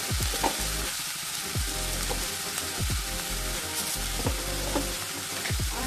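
Jaggery powder being added and stirred into bharangi vegetable frying in a pan: steady close sizzle with repeated scraping stir strokes at a regular pace, no voices.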